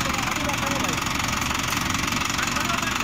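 A Mahindra 575 XP Plus tractor engine runs steadily with an 8-foot Shaktiman rotavator attached, a loud, continuous, close diesel drone with a knocking rumble that holds without a break.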